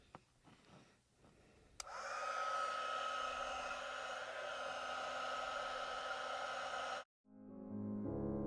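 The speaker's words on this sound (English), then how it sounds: "I'm going to take my heat gun, and we are going to heat up our embossing powder" Heat gun blowing hot air over embossing powder at close range, a loud steady whooshing roar that kicks in abruptly after a brief quiet start, runs continuously for about five seconds, then cuts off.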